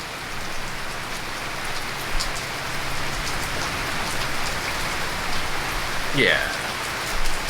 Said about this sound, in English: We're having a thunderstorm right now.